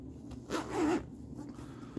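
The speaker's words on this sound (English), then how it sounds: "It unzips here. Let's see if I can find where the zipper begins." A single zipper on a plush ball being pulled open, a rising rasp that swells for about half a second then stops, close and fairly loud.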